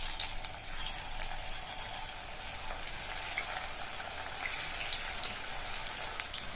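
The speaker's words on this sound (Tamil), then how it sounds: "நம்ம மேரினேட் பண்ணி வச்ச வாழைக்காயை ஒவ்வொன்றா எடுத்து எண்ணெயில சேர்த்துடலாம்." Marinated raw banana pieces fry in hot oil in a kadai, giving a dense, steady sizzle and crackle that stays close and even throughout, with no talking.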